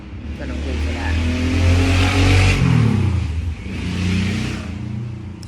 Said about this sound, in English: I really do not like loud cars or loud noises in general.